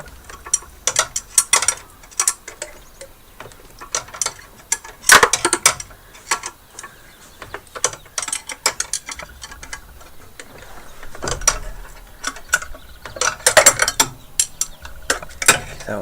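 Socket wrench ratcheting while loosening a bolt on a car, close, sharp bursts of rapid clicking in repeated strokes separated by short pauses, with no talking.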